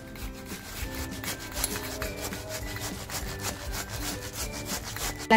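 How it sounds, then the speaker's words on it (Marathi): Tomato grated by hand against a metal grater, a steady run of rough rasping strokes up close, continuous and fairly even, with no voices over it. "टॅमॅटो जो घेतलाय तो टॅमॅटो असा छान किसून घेते"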